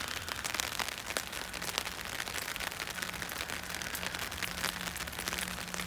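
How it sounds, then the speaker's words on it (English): Steady Pacific Northwest rain falling nearby, a dense continuous patter of drops striking a surface, with no pauses or voices throughout. "The never-ending rain of the Pacific Northwest."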